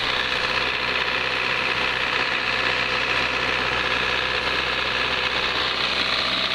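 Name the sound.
Bobcat machine engine idling and vibrating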